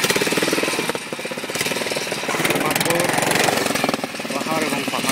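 A motorboat passes through heavy waves, its engine a loud, steady, pulsing chug that fills the whole stretch without a break.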